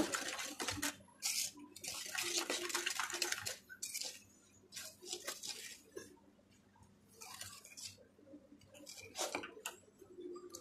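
A spoon stirring orange cake batter in a bowl, wet scraping and slapping strokes in uneven bursts with short pauses, close and clear, no talking.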